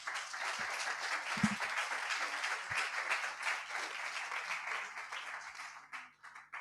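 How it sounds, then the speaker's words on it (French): Conference audience applauding François Reinert at a Jacques Delors lecture, a dense round of clapping at moderate distance that holds steady and thins out near the end. "Et des grands applaudissements à François Reinert."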